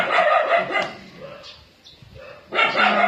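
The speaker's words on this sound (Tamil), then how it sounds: "ஸோ நாய் வேறு சண்டை." A dog caught up in a fight barks and yelps loudly and close by, with a burst of rough barks at the start, a quieter whimpering lull, then another loud burst of barking at the end.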